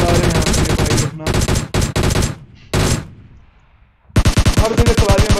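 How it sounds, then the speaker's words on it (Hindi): Gunfire in a battle royale video game comes in loud, rapid automatic bursts, broken by short pauses and a near-silent gap before another long volley. "गोली चला रहे हैं यहाँ पे भाई अपना"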